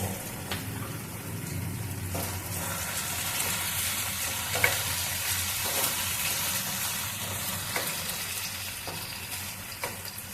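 Chopped green chillies hit hot oil in a frying pan while cooking chilli paneer, giving a steady loud sizzle with occasional scraping stirs of a spatula throughout.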